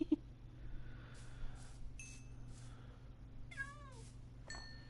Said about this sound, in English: Hopefully we get more midnight cats or jelly cats.